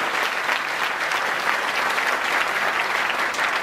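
A large audience at an annual celebration applauds, a dense, continuous wash of many hands clapping at once, loud and even throughout with no voices standing out.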